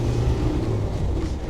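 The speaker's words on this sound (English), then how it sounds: "Engine sounds great." A 1995 Land Rover Defender 90 with the 300Tdi diesel engine and larger tires accelerates through the gears, giving a steady, close, low rumbling drone with no talk over it.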